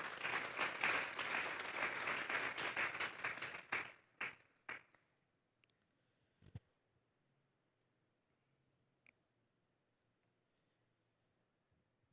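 A church congregation applauds during a sermon, a dense burst of clapping for about four seconds that thins to a few scattered claps and then silence.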